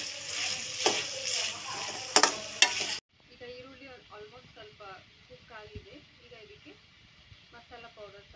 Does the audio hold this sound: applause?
no